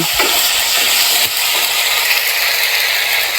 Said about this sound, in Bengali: একটু আদা রসুনটাকে ভেজে নিব।